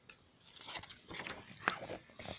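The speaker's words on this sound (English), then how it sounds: "The bamboo was sweet and crunchy, and Little Panda ate as much as he could" A panda bites into sweet, crunchy bamboo, giving several sharp crunches and chewing sounds close up, with no talking.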